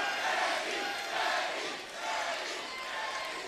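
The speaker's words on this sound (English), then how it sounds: "And the crowd picking right up on it." A wrestling crowd at a TNA Xplosion event roars and chants in a steady, loud wash of many voices, rising and dipping slightly throughout.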